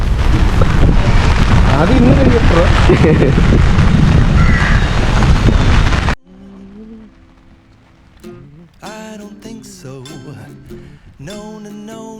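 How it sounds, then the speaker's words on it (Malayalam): Loud, roaring downpour of heavy rain with gusty rumble dominates the first half, during a thunderstorm in Alappuzha, then cuts to quieter tonal sounds; no distinct thunder clap stands out. "നല്ല മഴ പെയ്യുന്നുണ്ട്, നല്ല ഇടിയും മിന്നലും ഉണ്ട്."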